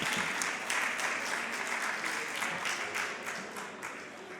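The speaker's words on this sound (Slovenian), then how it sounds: "Še celo daljši aplavz bi bil potreben" Sustained applause from an audience at a charity auction of illustrations, steady and fairly dense throughout, with no voices standing out.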